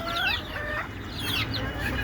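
Native chickens cluck and chirp in a dense, continuous chorus close by, with overlapping calls and a low background rumble.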